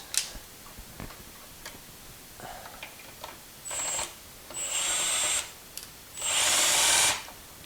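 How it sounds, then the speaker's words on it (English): A cordless power drill fitted with a hex head driver whirs in three short bursts, each longer than the last, while adjusting the height of a custom screen door, with light clicks and handling knocks between the bursts. "But then I can use a drill."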